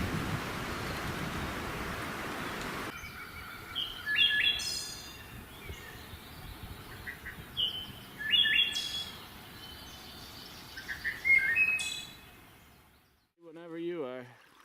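Thrush singing in repeated short bright phrases at moderate distance, several bursts separated by pauses over faint background hiss, with a brief different call near the end.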